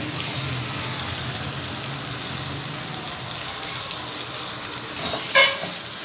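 Tomato puree frying in a pan for keema macaroni gives a soft, even sizzle and hiss that holds steady for several seconds, then a brief clatter of utensils near the end, close by and without voices.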